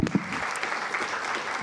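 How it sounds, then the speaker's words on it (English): Audience applause at a peace mediation conference, a dense, steady wash of clapping from a crowd, close and continuous through the short moment. "I think we can just simply continue the applause"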